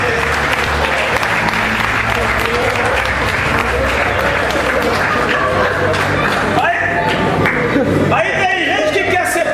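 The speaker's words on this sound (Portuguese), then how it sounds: "vamos aplaudir o Senhor" A church congregation applauds the Lord in a loud, dense, continuous burst of clapping, with voices mixed into the crowd noise.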